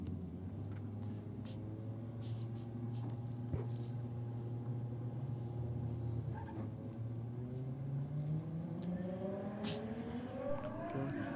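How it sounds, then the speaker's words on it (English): Nissan Skyline drag cars, one of them blue, rev up on the start line at a drag strip, a low rumbling engine note that holds steady and then climbs in pitch near the end, heard from a distance. "I can hear the blue Skyline in the Aeroflow lane starting to wind it up a little bit"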